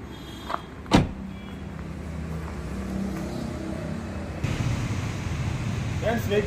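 A 2012 Maruti Swift VDI diesel car with manual gears starts on a single crank, then its engine runs in a steady, fairly loud idle rumble, with a brief sharp mechanical burst near the start.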